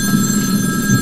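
A desk telephone rings continuously during a live radio-style show, its steady bell tone holding close and fairly loud with a low room hum beneath, no voices over it.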